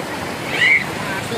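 Heavy nighttime downpour beside water, a dense, steady hiss of rain close by that swells briefly midway as a thin tonal cry rises over it.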